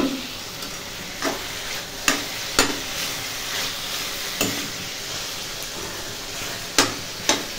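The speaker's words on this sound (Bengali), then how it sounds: "বেগুন আলু ভাজা বসালাম" Eggplant and potato slices frying in oil in a home kitchen, a steady soft sizzle broken by several sharp clinks and scrapes of a utensil against the pan.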